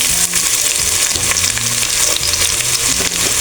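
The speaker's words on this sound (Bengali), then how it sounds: "এখন আমি পেঁয়াজ দিয়ে দেব" Onions dropped into hot mustard oil with a bay leaf sizzle loudly and continuously, close up, with stirring scrapes woven through the crackle. The onions are frying for a rohu fish curry with cauliflower and potato.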